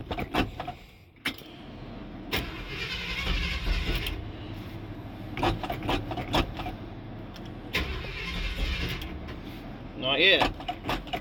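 An older car being cranked on a cold start, the engine turning over in repeated bursts without catching, with door creaks and a person talking between attempts.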